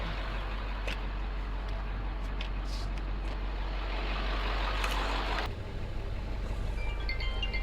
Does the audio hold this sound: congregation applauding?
no